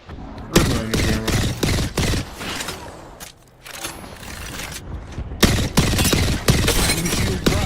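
Rapid bursts of gunfire from the video game Apex Legends come close and loud in repeated volleys with short lulls, layered with game mechanism noises.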